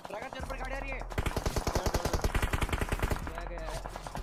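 Rapid automatic gunfire in the mobile game PUBG Mobile, a dense burst of loud close shots lasting a few seconds, preceded and followed by game sounds and faint voices.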